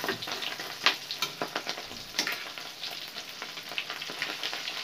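Shrimp paste and carrot omelette frying in oil, a steady close sizzle with bubbling and small crackling pops, no voices.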